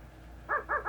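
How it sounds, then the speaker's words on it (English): A dog barks twice in quick succession, played back from an old cassette player, giving thin, muffled yaps over low tape hiss. "I got a dog."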